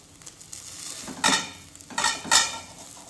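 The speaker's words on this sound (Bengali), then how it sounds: "অমলেট ভাজা হচ্ছে।" An omelette fries in a pan with a steady close sizzle. Three louder scraping or stirring bursts come at irregular moments, and no one speaks.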